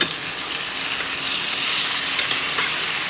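Mixed vegetables sizzling in a pan: bitter gourd, capsicum, potato and onion. A loud, dense, continuous frying hiss, close up, with no voices.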